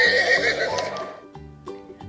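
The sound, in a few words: horse neighing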